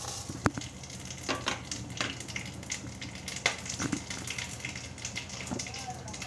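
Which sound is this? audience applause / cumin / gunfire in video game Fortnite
cumin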